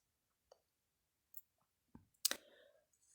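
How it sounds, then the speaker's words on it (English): A mouse clicks on an OK button in SPSS software, heard as a few faint, sparse clicks in near silence, ending with one sharper, louder click. "click on OK to run the test"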